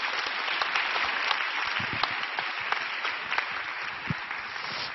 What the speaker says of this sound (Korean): 나오실 때 박수로 환영하도록 하겠습니다